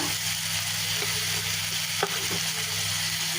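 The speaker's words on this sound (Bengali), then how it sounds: "মশলা আমি কষিয়ে নিচ্ছি এখানে পেঁয়াজ ভেজে নিয়ে তারপরে যে বাটা মশলা দিয়ে দিলাম" Ground spice paste fries with onions in a pan, giving a steady close sizzle with a few louder scrapes of stirring.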